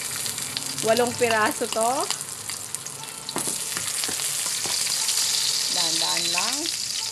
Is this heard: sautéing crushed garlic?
yes